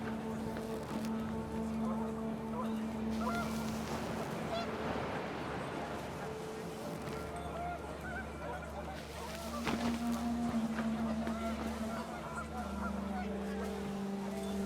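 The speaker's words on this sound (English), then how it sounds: "The wind picked up, and panicked geese appeared and quickly went." Panicked geese honk in the video game What Remains of Edith Finch, their calls repeating over steady wind and ambient game sound, with a person talking across much of it.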